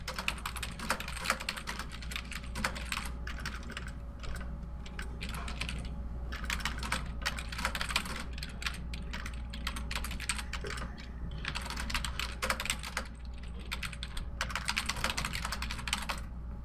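Fingers type on a computer keyboard during a card game, producing rapid, irregular runs of soft clicks over a steady low hum, with short pauses between bursts.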